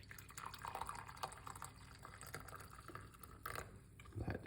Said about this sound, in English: Put some hot water into the cup.